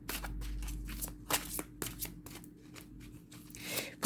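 Tarot cards shuffled and drawn by hand for a reading, with a long riffling shuffle, then a series of crisp flicks and slaps as individual cards are pulled and laid down close by.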